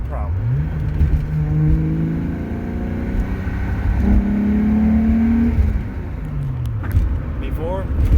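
A car engine with freshly tightened motor mounts revs up and settles in repeated rising and falling sweeps, fairly loud and close, with a voice talking over it.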